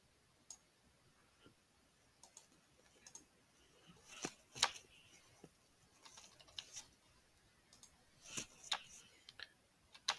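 Light, scattered keystrokes on a computer keyboard tap out in quiet, irregular bursts close by, with short pauses between clusters and no talking over them.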